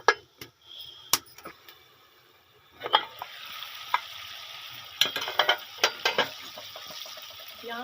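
Chicken pieces being bhuna-fried in a pan for chicken potta, with a steady sizzle under repeated sharp clinks and scrapes of a spoon stirring against the metal, close and fairly quiet, with no talking.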